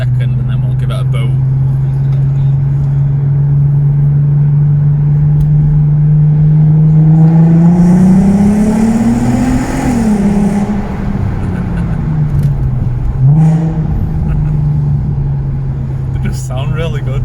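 A VW Golf R32 Mk5 with its VR6 engine accelerates hard in second gear, a loud rising drone that climbs in pitch, eases off, then settles. Speech is faintly mixed in with the engine noise.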